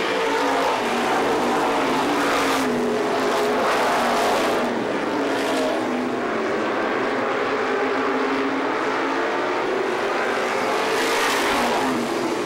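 350 supermodified race cars roar around Star Speedway, a loud, sustained engine howl that swells as cars pass close and then fades into a steady drone of the field farther off.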